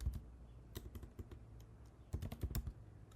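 Quiet, close computer-keyboard typing as a database query is entered, with irregular bursts of key clicks and short pauses between them.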